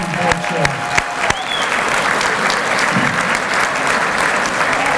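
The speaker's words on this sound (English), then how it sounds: "One more round of applause for Phil." Crowd at a chamber of commerce annual meeting and awards ceremony claps warmly for a departing board chair, sustained even applause with a few sharp nearby claps early on.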